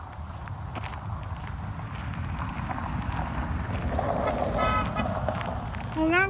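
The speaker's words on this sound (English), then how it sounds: "There's a car coming, Chris." A car approaches and passes on a road near a horse, a broad rising rumble with a brief tonal toot near the end, heard outdoors over steady wind noise and scattered footsteps.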